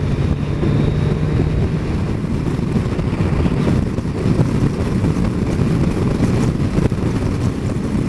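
A Yamaha Tracer 900 GT motorbike carrying a pillion at speed, heard as a continuous loud roar of engine and wind buffeting with no pauses.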